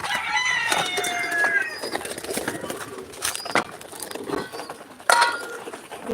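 Ducks, pigeons and chickens at feeding time give scattered calls and clucks near and far, while a person talks over them throughout.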